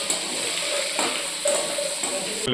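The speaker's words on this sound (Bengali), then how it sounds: "মাছের তেল ভাজা হচ্ছে ফাটবে" Fish frying in hot oil in a home kitchen gives a continuous sizzle with sharp pops and sputters, punctuated by a few utensil clinks.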